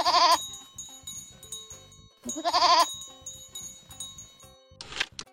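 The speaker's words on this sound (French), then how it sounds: "C'est un mouton qui bêle." Sheep bleating in bursts, two loud wavering bleats separated by quieter clattering, with a short bright jingle near the end.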